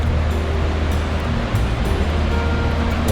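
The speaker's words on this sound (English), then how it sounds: "This is the rapids before the falls." Rapids on the Yellowstone River above its upper falls make a steady, loud rushing roar of churning water, continuous and close by.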